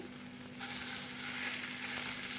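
Minced chicken frying in a pan on a low flame, a steady soft sizzle that grows slightly louder after a moment and continues alone without talk.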